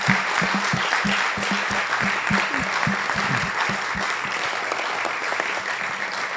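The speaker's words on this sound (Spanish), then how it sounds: "un gran aplauso desde Benedición" An audience applauds during an evening Torah study event, giving a dense, sustained round of clapping with some distinct nearby hand claps standing out over the steady wash.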